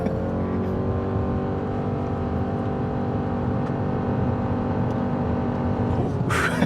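A 2025 Subaru Forester Touring's engine drones steadily at high revs, building as the SUV accelerates hard and continuously from a standstill to 60 mph in about 10 seconds, loud and close from inside the cabin.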